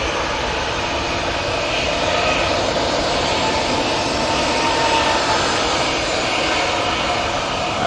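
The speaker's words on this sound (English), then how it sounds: "Ryanair coming on in front of us." A Ryanair jet at Manchester Airport roars steadily and loudly with a broad, continuous engine rush that holds at full strength throughout, with no voices.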